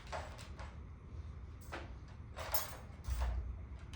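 Quiet rattling clicks and light knocks of a metal puppy crate door being handled and shut, ending with a soft latching thud.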